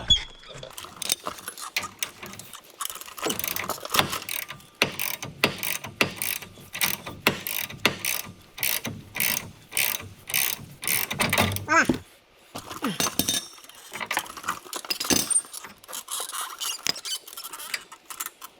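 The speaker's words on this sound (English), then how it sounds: "I'm having to use the puller on it" A puller is cranked to free an upper ball joint on a Super Dodge, producing long runs of rapid, close ratchet clicks in rhythmic bursts with brief pauses and metallic clatter.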